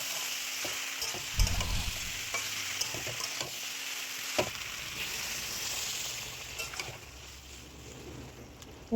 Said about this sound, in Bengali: বাকি যে নরম সবজিগুলো আমি আগে ভেজেছিলাম সেগুলো একসাথে মিশিয়ে দিচ্ছি